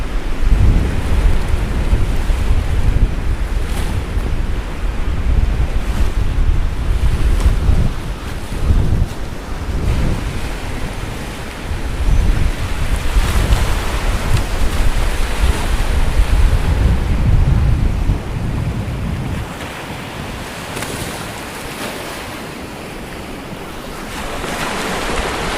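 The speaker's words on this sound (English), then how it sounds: "Oh my god, that wind." Strong wind buffets the microphone while surf crashes and roars continuously at Waihi Beach, a loud, unbroken rumble with gusts that swell and ease, no voices.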